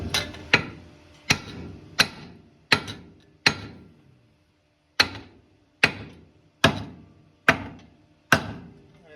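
Sharp metal hammer strikes ring out at a steady rhythm, about ten close loud blows with a brief pause midway, working loose the upper ball joint on a Chevy OBS truck's suspension.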